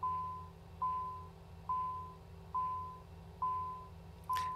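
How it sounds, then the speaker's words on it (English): Repeating electronic beeps in a Working Title CJ4 business jet cockpit in a flight simulator, sounding as steady evenly spaced tones about once a second over a low engine hum while engine one starts. "We'll get rid of these beeping noises momentarily here."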